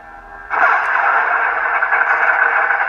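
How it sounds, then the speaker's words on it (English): A custom Graflex-style lightsaber goes into blade lockup: after a quiet hum, a sudden loud crackling, buzzing lockup effect kicks in and holds steady, bright and close, with a brief sharp flicker near the start. "I'm going to put it in lockup so you can see the crystal chamber."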